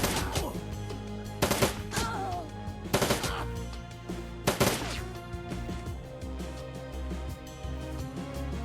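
Gun turrets in Shadowrun: Dragonfall fire rapid automatic bursts, loud and close, in several sharp clusters over a steady game music bed, with no talk.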